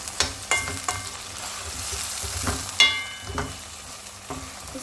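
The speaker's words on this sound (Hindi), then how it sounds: "इसको मैं फ्राई करूँगी और साथ में ये 3 टमाटर हैं ये ऐड कर दिए हैं।" Chicken and three tomatoes frying in a pan for a summer vegetable curry, with steady sizzle and a few sharp stirring clatters and scrapes, close and moderately loud, no talk.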